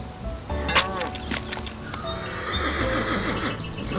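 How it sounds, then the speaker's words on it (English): A horse neighs in the video game Nancy Drew: The Secret of Shadow Ranch, a loud, wavering whinny rising over a bed of crickets and outdoor ambience, with softer hoof-like clops. "I heard a horse."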